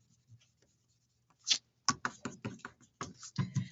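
An eraser rubs out pencil lines on paper in a burst of short, dry scratchy strokes, close and distinct after a quiet start, repeating in quick uneven succession.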